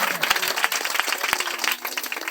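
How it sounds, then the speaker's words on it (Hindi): A church congregation at a Sunday prayer gathering in Nagina, Uttar Pradesh, applauds with brisk, dense clapping from many hands that fills the room nearby, with a few sharper claps standing out. "जोरदार ताली बजाओ।"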